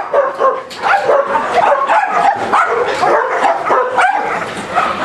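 Many dogs crowded into shelter kennels bark, yip and whimper nonstop, a dense overlapping chorus close by and loud throughout.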